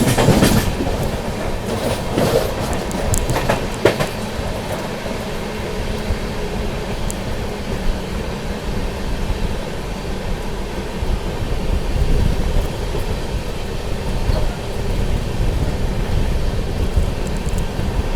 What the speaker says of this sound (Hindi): अभी थोड़ी देर में जो है अपनी तमिलनाडु एक्सप्रेस स्किप करने वाली है चंद्रपुर रेलवे स्टेशन को